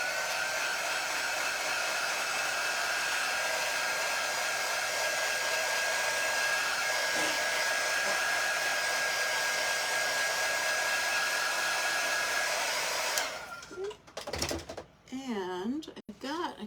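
A hair dryer blows steadily at close range for about thirteen seconds, a loud even whir used to dry paint, then shuts off, followed by a few handling clicks and someone talking.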